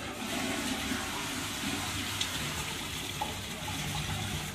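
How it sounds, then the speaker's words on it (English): A toilet being flushed while a blocked drain is cleared: steady, loud rushing and gushing water fills the whole stretch without a break, with no voices over it. "we'll give the dunny a flush in a second"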